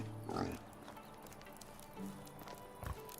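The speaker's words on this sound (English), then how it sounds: "Get out of the way, damn pigs." Pigs in a video game pig pen give a few short grunting oinks, one early and others later, over soft ambient game sound and light patter.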